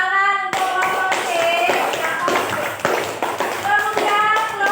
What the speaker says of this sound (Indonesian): Tepuk tangan untuk kelompok D.